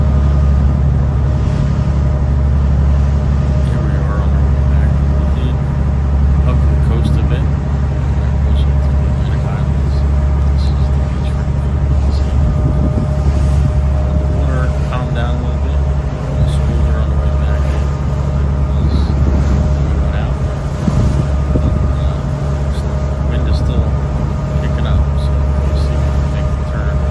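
A fishing boat built for about twenty people cruises back toward the fleet off New Jersey on a sea bass trip, its engine a steady, loud low drone throughout with water rush and faint talk underneath.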